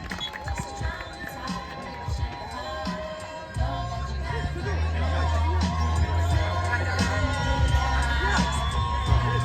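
A crowd at a 3x3 basketball game in Kyiv cheers and shouts over a din of chatter, growing louder partway through, with a low hum underneath. The rhythmic clapping is not clearly distinct.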